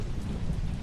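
A thunderstorm with rain and wind, a dense, constant roar of rainfall with deep rumbling, steady and loud, with no voices.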